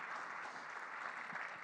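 An audience at a College of DuPage welcome event gives steady, dense applause for elected officials, an even wash of many hands clapping at moderate volume with no breaks.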